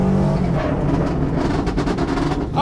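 A loud Subaru rally car engine roars with anti-lag engaged while sharp crackling pops burst rapidly from the exhaust, clustering toward the end.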